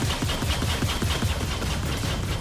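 Rapid automatic spaceship guns firing in the space game Star Citizen, a dense, fast stream of punchy shots at a steady rhythm, loud and continuous with no talk.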